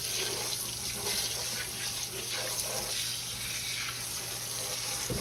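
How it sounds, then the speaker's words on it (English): Hands washed under a running kitchen tap, a steady close gush of water that splashes and shifts for several seconds with no talking. "Now, wash my hands here for a second."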